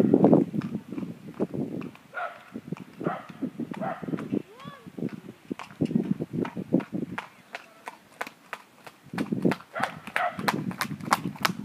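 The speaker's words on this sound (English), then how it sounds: "then trot back to me" A horse trots on firm ground with a steady run of clear hoof clip-clops, close by, while someone speaks to it.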